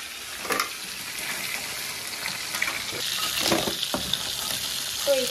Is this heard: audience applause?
no